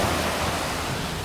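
Wind roaring across Taino Beach, a dense broadband rush close to the microphone that buffets steadily with no other sounds standing out.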